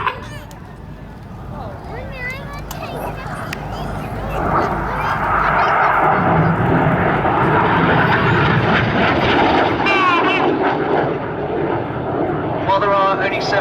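Red Arrows jets fly the synchro pair vortex at the Farnborough Airshow, one jet rolling around another, a loud rising jet roar that swells and holds while an announcer commentates over it.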